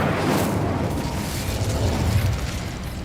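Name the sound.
Incendio fire spell in video game Hogwarts Legacy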